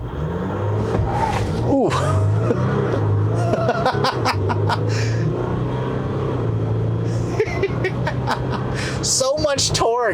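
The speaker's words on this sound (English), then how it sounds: "you heard the back tires spun a little bit when I brake torqued this thing" A 2020 Jeep Wrangler EcoDiesel with an 8-speed automatic launching from a stop in rear-drive, rear tires briefly spinning with a short squeal over a loud engine, while people inside laugh and talk.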